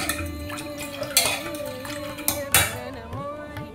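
Salt being stirred into dal in a cooking pot brings a few clinks and scrapes of a spoon against metal over a steady tonal hum, fairly close.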